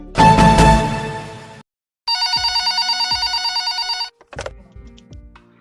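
Telephone ringing for a caller on a radio quiz show: a loud electronic trill, a short silence, then a long even burst of bell-like ringing, followed by a few clunks like a handset being picked up.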